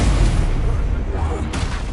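Heavy, booming fire-spell blast of Confringo in Hogwarts Legacy, a dense roaring burst loud throughout with a sharp new crack near the end, overlapping spoken voices.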